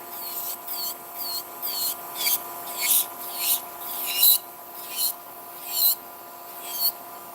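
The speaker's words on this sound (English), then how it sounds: "so that I can file away from my nails" A nail file working down gel nail extensions during removal, with about a dozen short rhythmic scratchy rasping strokes close by over a faint steady electrical hum.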